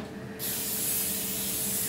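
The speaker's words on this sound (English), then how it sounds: "So just a little pan spray" Cooking spray hisses onto a chilled pan in one continuous, close burst that starts abruptly and holds steady until the clip ends.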